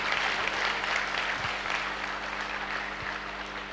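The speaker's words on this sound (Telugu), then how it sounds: "మరొకసారి సంగీత బాబు గారికి చప్పట్లతో." Applause from a crowd at a vegetarian rally in Tirupati, a steady wash of clapping that sounds somewhat distant, with a low hum underneath.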